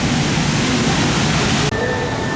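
Waterfalls pouring beside the trench of a Parc Asterix water ride, a loud, steady rushing roar that runs unbroken throughout.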